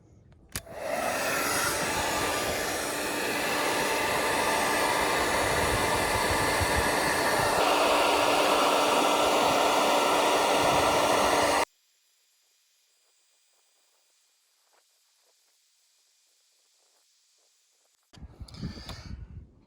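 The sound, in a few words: blow dryer heating Land Cruiser emblem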